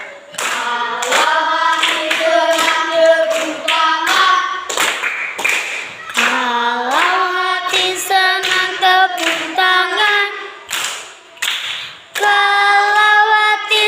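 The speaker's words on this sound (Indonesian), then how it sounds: "Kalau hati senang tepuk tangan." Hands clap in rhythm along with a group singing a cheerful song at a gathering, the claps coming in regular bursts beneath loud, sustained voices.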